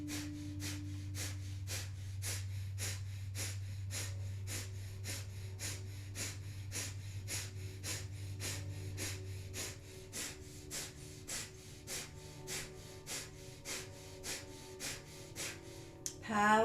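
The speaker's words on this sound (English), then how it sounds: "begin breath of fire" A person performs breath of fire, a rapid yogic breathing practice, producing a fast, even train of sharp nasal puffs close to the microphone, with a steady low hum underneath for the first part.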